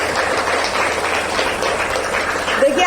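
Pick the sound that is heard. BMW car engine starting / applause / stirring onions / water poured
applause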